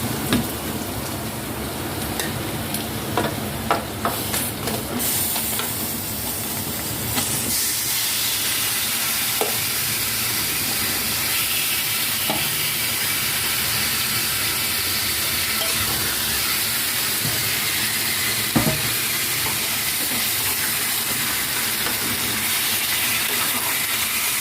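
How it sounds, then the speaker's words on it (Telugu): Chicken tipped into a pan of deep-browned fried onions for a Telugu-style chicken fry, with a loud, steady sizzling hiss that swells after a burst of clattering and scraping and holds through to the end. "ఇప్పుడు చికెన్ వేసుకుందాం."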